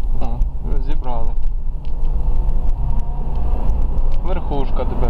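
A Lexus LX 570 with a 367 hp LPG-fuelled engine, the same vehicle as the Toyota Land Cruiser 200, drives in third gear on its automatic, giving a steady low interior road rumble under continuous talk.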